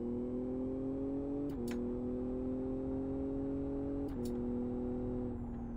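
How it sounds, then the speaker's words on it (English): A six-cylinder rallycross car engine in the Live For Speed racing game holds a steady, smooth drone, dipping briefly twice at gear shifts with small clicks. "It sounds kind of 6-cylinder-ish on the engine tone"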